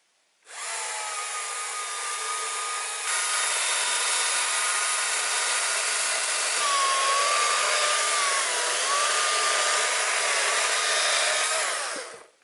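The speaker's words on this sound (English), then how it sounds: "We'll see how this performs." A Stihl MSA 220 C battery chainsaw whines steadily and loudly for about twelve seconds, its pitch wavering as the chain bites through sycamore wood.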